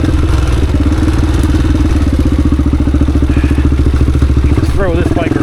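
A Honda XR dirt bike, XR250 or XR400, thumps loudly and steadily as it is ridden through a tight technical trail, the single-cylinder engine pulsing close with a brief rev near the end and a rider speaking.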